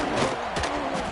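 A college football stadium crowd roars in a loud, sustained wash of cheering and buzzing noise, with no clear break across the moment before a kickoff.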